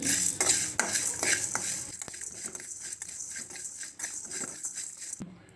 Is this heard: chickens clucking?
no